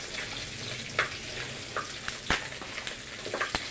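Pork browning in oil in a pan for Filipino adobo, a continuous soft sizzle broken by occasional sharp pops and scraping clicks of stirring, close and fairly quiet.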